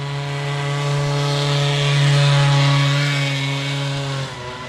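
A small Go-Ped scooter engine runs steadily with a buzzing, high-pitched drone that rises slightly in the middle, then drops off abruptly near the end.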